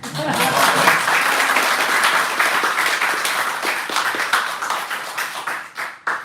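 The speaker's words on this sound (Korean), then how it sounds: "그래서 여러분들 다시 한번 박수 좀 쳐줘요." A church congregation at an Easter Sunday service breaks into warm, sustained applause that tapers and thins toward the end, with some voices mixed into the clapping.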